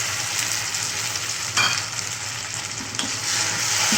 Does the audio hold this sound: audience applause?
no